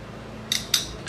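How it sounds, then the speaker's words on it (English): Metal kitchen tongs handled in a home kitchen while making skillet chicken parmesan, giving two or three brief, close, bright metallic clicks over a low steady background hum. "Let me get my tongs."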